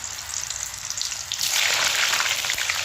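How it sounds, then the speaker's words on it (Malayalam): French fries scooped into very hot oil set off a loud, steady sizzle and crackle that swells sharply partway through as more potatoes hit the oil, with no talking. "നല്ല തിളച്ച എണ്ണയിലേക്കാണ് നമ്മൾ വാരി ഇടുന്നത്"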